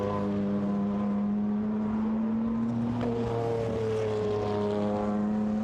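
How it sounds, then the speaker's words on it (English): A Porsche turbo GT1 race car engine drones steadily nearby at Goodwood, its flat, buzzing tone holding and then dropping in pitch as it passes by. "The very distinctive flat sound of that Porsche turbo."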